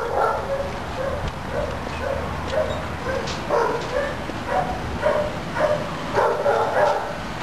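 Several dogs in animal shelter kennels bark and yip over and over, some near and some farther off, and the sounds echo in a busy, reverberant run.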